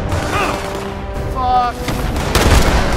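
Submachine gun fire rattles in Fallout 76, with dense, loud bursts of gunfire and explosive booms mixed under overlapping voices.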